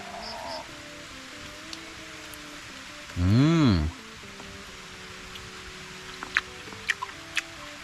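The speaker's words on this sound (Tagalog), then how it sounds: "Lumakas na naman yung ulan." Heavy typhoon rain makes a steady, dense hiss through the whole stretch, with a brief rising-and-falling tonal sound partway through and a few sharp clicks near the end.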